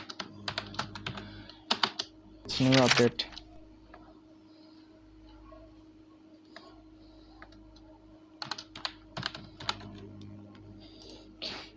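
Bursts of typing on a computer keyboard, with clusters of crisp key clicks separated by quieter gaps and a brief louder noise early on.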